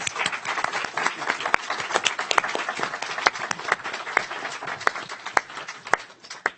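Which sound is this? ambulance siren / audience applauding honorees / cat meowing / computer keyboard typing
audience applauding honorees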